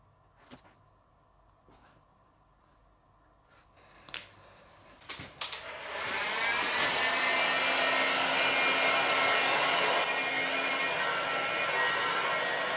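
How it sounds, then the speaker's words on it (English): A heat gun blows steadily on painted bare metal, starting after a few scattered knocks and clunks, then a loud continuous airy roar that holds at close range to the end. "a bit of a hit with the old heat gun"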